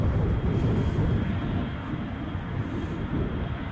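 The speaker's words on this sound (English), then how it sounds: "is the Exeter bound Loganair departure. Is that an ATR 42, I'm wondering?" A Loganair ATR turboprop departs Edinburgh for Exeter in gusty storm crosswinds, its engines a broad, steady rumbling roar that stays loud and fairly constant throughout with no voices.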